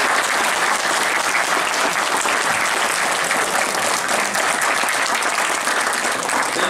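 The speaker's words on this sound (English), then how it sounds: "please give a huge round of applause for him" An audience at a university lecture for MBA students claps steadily and loudly for several seconds, a dense sustained wash of applause with no speech over it.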